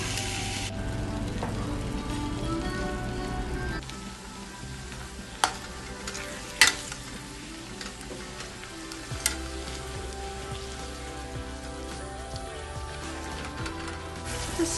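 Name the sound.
ground beef sautéing in pan with turmeric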